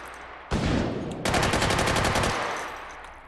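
An underbarrel grenade launcher fires in the VR shooter Hot Dogs, Horseshoes & Hand Grenades: a sharp loud blast, then a rapid string of booming reports that rings out and fades.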